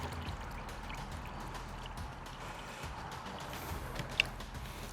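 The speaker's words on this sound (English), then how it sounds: "Then I have a really nice strong coffee here with some espresso in it too. We're gonna fill that up, 5 ounces." Strong coffee with espresso poured into a glass, a faint steady trickling stream close by with a small clink near the end.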